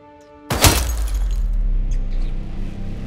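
A Desert Eagle pistol shot strikes bulletproof glass: one sudden loud crack and shattering burst, followed by a few seconds of lingering crackle and rumble, with no voices.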